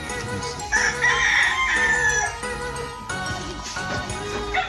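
Roosters on a farm, fighting birds, with a loud nearby cock-a-doodle-doo crow followed by clucking and further crowing, alone without talk.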